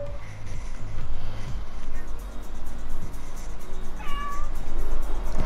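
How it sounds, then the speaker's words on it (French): A pet cat named Jelly meows once, a short clear cry near the end, over a continuous background rumble with no talking. "je vous présente mon petit chat que vous voyez pas, mon jelly"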